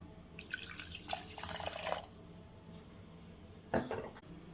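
Water poured from a cup onto a cup of sugar in a pan to make sugar syrup for gulab jamun, two short splashy bursts near the mic with a quiet pause between, no voices.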